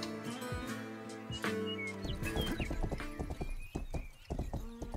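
A horse in the medieval game Rustler gallops with rapid, loud clip-clopping hooves and lets out a whinny, accompanied by game music and faint bird chirps.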